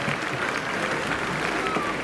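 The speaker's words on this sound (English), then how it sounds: "Ladies and gentlemen, let us support with a round of applause" Applause from an audience at a 79th Independence Day celebration in Meghalaya, a steady dense wash of clapping that holds evenly for the whole stretch without breaks.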